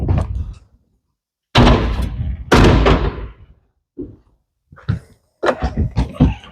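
An RV front door on a 2015 Heartland Torque TQ290 travel trailer opening and closing, with a sharp latch clunk, a heavy slam, then several lighter knocks and thumps in separate bursts with silent gaps between.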